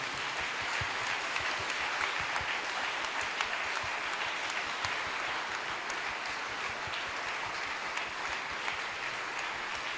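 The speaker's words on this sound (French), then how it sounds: "Est-ce que nous pouvons encore dire merci à Dieu par nos acclamations bien nourries?" A church congregation applauds and acclaims in praise, with steady, dense clapping that fills the room and stays loud and unbroken throughout.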